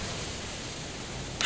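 A Counter-Strike smoke grenade goes off as a steady, close broadband hiss that holds for about a second and a half, swelling into a slightly louder burst at the very end.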